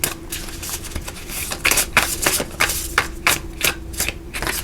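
Reading cards are shuffled by hand in a quick series of papery riffles and flicks that come close and fairly loud, with no talking over them.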